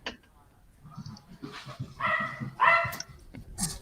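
A dog in a house barks and whimpers in short, uneven bursts close by, with voices of people talking mixed in.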